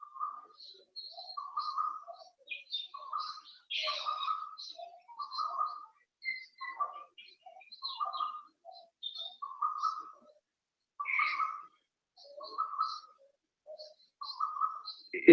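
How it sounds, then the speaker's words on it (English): A bird calls again and again in short, repeated phrases of two or three notes, clear and fairly close, separated by brief pauses against a silent background. "It is the sound of a bird."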